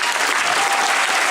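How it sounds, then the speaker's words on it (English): A theater audience at a Toronto After Dark film Q&A for The Dirties applauds the producer, a dense, steady wash of clapping that fills the short moment without a break. "So give him a big round of applause."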